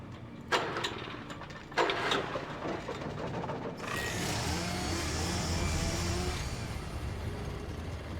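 A generator engine in the video game Alan Wake, heard after two sharp knocks, starts up and settles into a steady mid-level mechanical drone.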